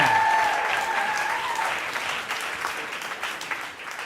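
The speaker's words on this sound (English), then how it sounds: "let's give a huge, huge round of applause for Tom" An audience at a storytelling event applauds loudly, the clapping strong at first and then easing slightly as it carries on for about four seconds.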